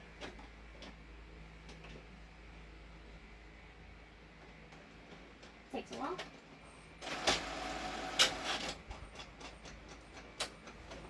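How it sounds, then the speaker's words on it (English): A printer whirs and clicks faintly at first, then runs louder with a mechanical feed buzz near the end; a voice briefly speaks. "You're going to hear my printer."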